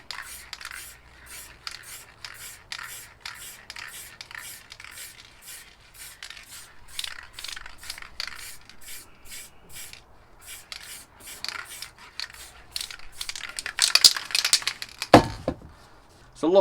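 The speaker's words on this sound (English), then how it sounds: "Real light spray of that." Black spray paint hisses from an aerosol can in a series of short, light bursts as a painting is finished, each puff close and soft; a louder, denser spray comes near the end.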